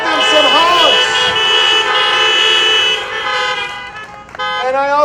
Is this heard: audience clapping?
no